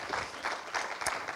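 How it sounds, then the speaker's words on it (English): A church congregation claps during a sermon, a steady wash of applause of moderate loudness with no talking over it. "Somebody give God a clap like you're free in Jesus' name"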